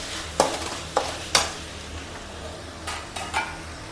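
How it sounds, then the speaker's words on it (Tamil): Tomatoes sautéing in a pan for prawn gravy, with a low, steady sizzle broken by several sharp spoon scrapes and clanks against the metal. "தக்காளி போட்டு நல்லா வதக்கிட்டு"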